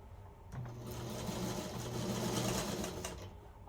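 Sewing machine stitching quilt pieces together, a close, steady motor hum and rapid needle rattle in one continuous run of about three seconds.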